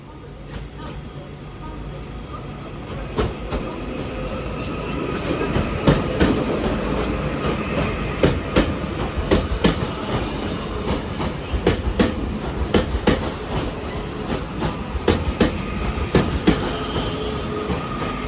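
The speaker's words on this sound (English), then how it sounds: "Got a 331 terminating in now from Crewe." A Class 331 electric multiple unit arrives at Manchester Piccadilly station, rumbling in loudly with rhythmic clickety-clack over rail joints and wheel squeals, rising as it draws near; someone speaks briefly over the noise.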